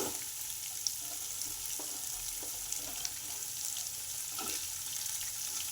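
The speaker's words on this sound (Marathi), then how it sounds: "आता हे छान तेल सुटलेल्यानंतर आपण ह्याच्यात वरण्याच्या शेंगा टाकूया." Bean pods fry in hot oil with turmeric, a faint, steady hiss of sizzling with a few soft clicks and no voices.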